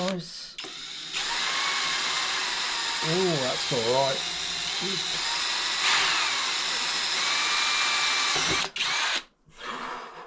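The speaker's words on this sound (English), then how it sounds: "Fingers crossed it drills nicely." A power drill bores into a motorbike part on a BMW adventure bike project, running loud and sustained for most of the clip with a steady whine, pausing briefly near the end, while someone speaks a few words over it.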